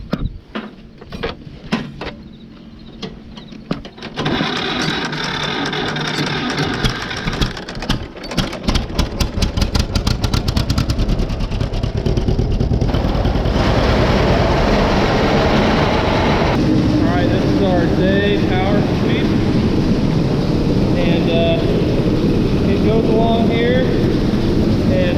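A grain auger unloading corn into a truck on a farm starts with a few knocks and then builds to a loud, continuous mechanical roar and rattle, with wind buffeting the microphone.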